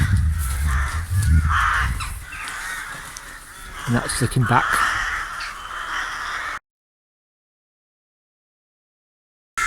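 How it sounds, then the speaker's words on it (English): Crows cawing in a churchyard, several harsh repeated caws over wind noise, with someone talking over them before the sound cuts to silence. "All these crows."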